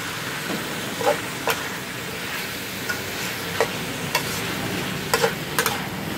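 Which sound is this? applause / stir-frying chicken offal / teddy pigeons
stir-frying chicken offal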